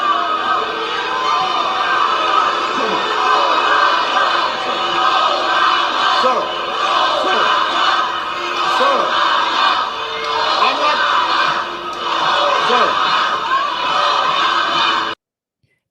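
A large crowd cheering for Obama at a rally, loud continuous roar of many voices with shouts rising and falling, steady throughout and cutting off abruptly at the end.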